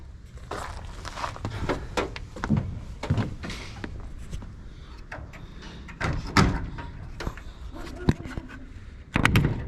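Repeated clunks, thuds and scraping rattles as the stuck rear suicide door of a Ford Econoline van is yanked and pushed, with a voice talking in between.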